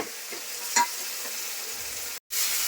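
Spiced bhola fish curry masala fries and crackles in oil as it is stirred in a pan, a steady close sizzle with one brief utensil knock and a short break near the end; no voices.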